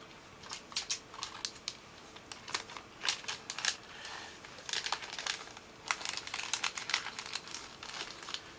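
Paper being folded and creased by hand to make a small gift box, with quiet, close crinkles and crisp rustling bursts in an irregular rhythm and brief pauses between folds.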